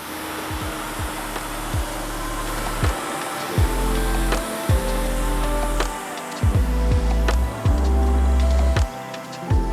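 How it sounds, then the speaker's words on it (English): A truck wheel on a Ram 3500 is rinsed with a hose spray that hisses steadily up close, broken by repeated bursts and thumps as the water stream shifts across the wheel. "now we're just gonna go ahead and rinse off the wheel"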